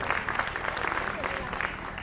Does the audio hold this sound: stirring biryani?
no